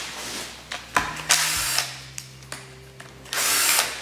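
A power tool unwinds bolts on a Saab 900 engine during teardown, with short bursts of whirring and ratcheting separated by brief pauses, close and fairly loud.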